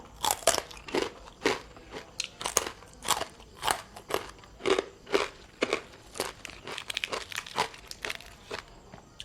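Crunchy pork rinds are chewed right at the microphone, with loud, crackling bites that come in an uneven rhythm and leave short pauses between them, and nobody speaks.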